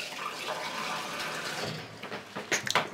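Water poured into a container for a homemade cola, a steady rushing splash that runs for a couple of seconds, then trails off into a few small splashes and drips, close up with no talking.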